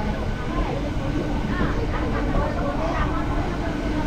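A local suburban train heading towards Sheoraphuli rumbles steadily from inside the carriage, a continuous dense roar with faint voices mixed into the noise.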